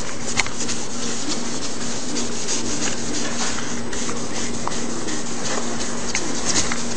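Fine sandpaper lightly rubbing across the surface of a scratched CD, a steady close, dry scraping hiss with faint strokes running continuously and no talking.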